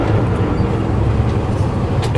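A truck engine hums low and steady at reduced revs after a double-clutch downshift, with a continuous rumbling drone and no distinct gear clunks standing out.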